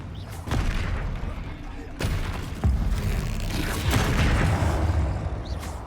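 Blasting fire spell explosions against a troll in a dungeon in the Hogwarts Legacy video game, a dense run of booming, thudding blasts with sharp new hits around two and four seconds, while a voice talks over the game.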